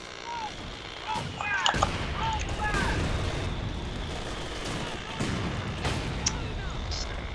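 A mechanized mortar carrier fires in a Company of Heroes 2 battle, with a few distant booming shots and crackling impacts spread over a rumbling battlefield background and faint voice lines.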